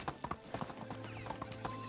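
Hoofbeats of a ridden donkey in the game Medieval Dynasty clop out in a quick, even trotting rhythm, close and fairly loud, with a low steady background hum beneath.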